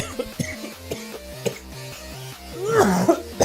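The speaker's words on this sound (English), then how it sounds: "just randomly just coughing a lung up" A person coughs and clears their throat in a quick series of harsh, rasping bursts close to the microphone, ending in a louder, strained hacking fit.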